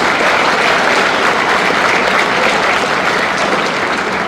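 A large crowd at the inauguration of a model cargo terminal and rail siding at Maruti Suzuki in Manesar, Gurugram claps loudly and continuously, a dense, even roar of applause.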